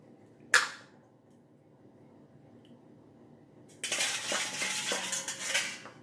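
A utensil clinks once sharply against a bowl, then after a pause stirs onions and sugar with a continuous scraping, clattering rhythm, close and clear.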